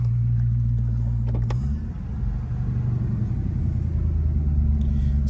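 1984 Mercedes-Benz 500SEC driving, a low steady engine rumble heard from inside the car, with a slight easing in the middle before the drone settles back, faint road noise throughout.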